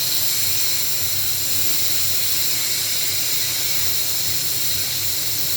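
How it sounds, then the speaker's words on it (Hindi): A pressure cooker on a stove vents steam in a steady, loud hiss that holds constant from start to end, with no voices. "सीटी उठते ही हम प्रेशर को रिलीज़ करेंगे और एहतियात बरतेंगे तो उसका प्रेशर ख़त्म हो जाए।"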